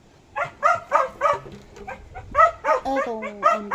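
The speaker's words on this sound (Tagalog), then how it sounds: "Pagkaingay mong aso ka." A dog barks repeatedly in quick, uneven bursts, close by, with some higher yips mixed in.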